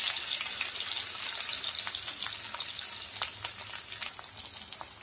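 Okra sizzles and crackles steadily in hot oil with ground masala paste for a tamarind curry, a dense close frying hiss with scattered sharp pops and faint stirring, no voices.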